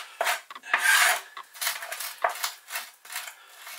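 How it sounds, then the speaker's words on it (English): A kitchen knife blade pressed down and drawn backwards through salt on a chopping board, as if grinding meat for kofte, gives a series of close, gritty rasping strokes in irregular bursts, with no talking. "So I'm pressing on the top of the blade, pushing the blade down and drawing it backwards. And you can hear the salt abrasing."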